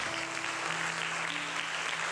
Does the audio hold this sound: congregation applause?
yes